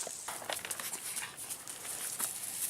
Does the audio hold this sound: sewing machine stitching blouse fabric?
no